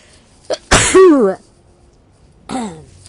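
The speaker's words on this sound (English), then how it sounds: "I'm going to sneeze." A single close, loud sneeze with a sharp in-breath before it, followed by a short vocal sound a moment later.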